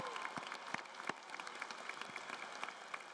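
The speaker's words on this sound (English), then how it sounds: "Let's give it one more round of applause." An audience at a Grand Valley State University commencement ceremony claps. The applause is dense and sustained, with many overlapping claps heard from within the crowd.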